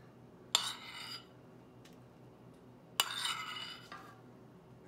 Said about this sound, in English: Get some of that and scoop it into the warm milk.